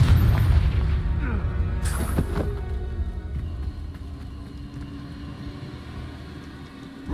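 A heavy boom from a Confringo fire spell in Hogwarts Legacy, with a loud rumbling burst early on and a crackling flare that decays into a long, low fading rumble.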